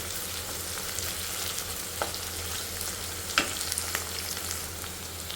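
Ivy gourd (dondakaya) pieces frying in a pan, a steady close sizzle running throughout with a few sharp clinks of a spatula stirring, no voices.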